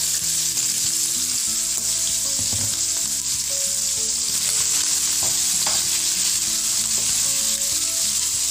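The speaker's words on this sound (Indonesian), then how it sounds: "Goreng cumi asin." Salted squid fries in hot cooking oil with a loud, continuous crackling sizzle, bubbling steadily and evenly throughout.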